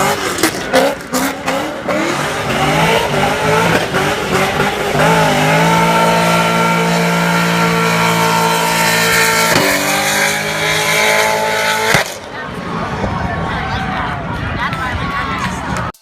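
A Chevrolet Corvette C7 ZR1 with a supercharged 6.2-liter LT5 V8 making 755 horsepower, driven in the Need for Speed racing game, gives a steady, loud engine drone with rising pitch, heard under continuous narration until it cuts off sharply near the end.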